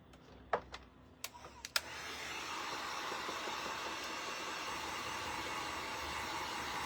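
After a few sharp clicks, a heat tool or dryer switches on and blows a steady, loud whooshing roar over a painting of bunnies, continuing without a break.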